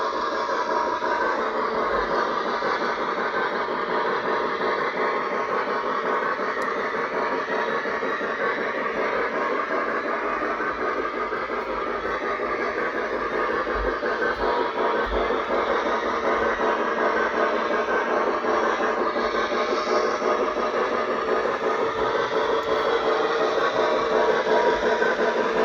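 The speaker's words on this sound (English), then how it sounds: "just a train running in a complete oval" An O-gauge model train runs laps around a complete oval on a layout, a steady continuous rumble and clatter of wheels on track, close and even throughout with no talking.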